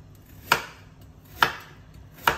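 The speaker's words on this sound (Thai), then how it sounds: "เดี๋ยวเราจะมาล้างแครอทก่อนแล้วก็หั่นหอมๆนะคะ" Onion being chopped with a knife on a cutting board in a home kitchen: three crisp, separate knife strikes spaced just under a second apart, close and clear over a quiet room.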